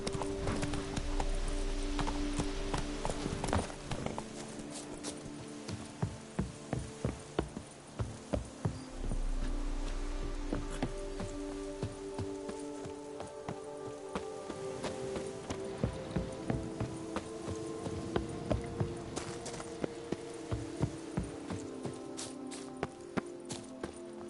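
Roach the horse galloping in The Witcher 3, with rhythmic hoofbeats clip-clopping steadily, briefly fading and resuming, over ambient game sounds and an occasional whinny.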